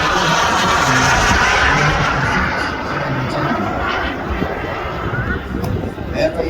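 F-86 jet fighter warbird flying past at an airshow in Arizona, a loud broad jet roar that slowly fades as it moves off, heard alone.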